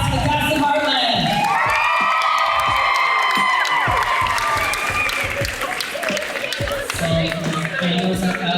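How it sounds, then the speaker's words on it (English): Audience applauding and cheering for the cast of Heartland, a loud, continuous crowd roar of clapping with whoops and shouts sustained throughout. "Let's give a round of applause to the cast of Heartland."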